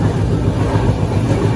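A moving train gives a loud, steady low rumble with a continuous wash of rolling noise and faint rhythmic rail texture, close and unbroken, with no speech.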